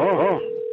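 A brief telephone keypad tone on a law firm's automated phone menu, a short warbling burst settling into a steady beep, close and clear, lasting under a second.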